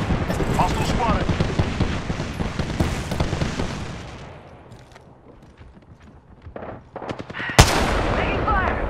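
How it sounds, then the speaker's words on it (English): Gunfire in a shooter video game, with dense rapid shots in the first few seconds, a quieter lull, then a sharp loud blast near the end followed by more firing. "They're shooting at me."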